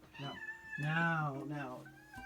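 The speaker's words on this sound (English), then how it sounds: "And I gotta go grab my cat." A house cat meows several times in long, drawn-out, rising and falling calls, close and fairly loud, with a brief pause between cries.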